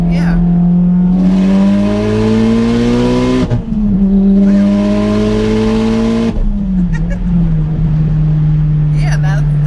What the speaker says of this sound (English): When I go wide open throttle?